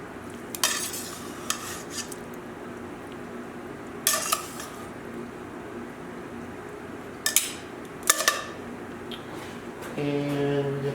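Utensils clink and scrape against a dish while angel hair pasta with puttanesca sauce is plated at home. Four sharp metallic knocks stand out over a low, steady background hiss.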